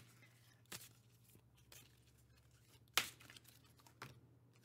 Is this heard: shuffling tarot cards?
yes